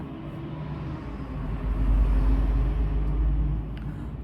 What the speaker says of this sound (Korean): 진짜 큰 차 소리 많이 나죠?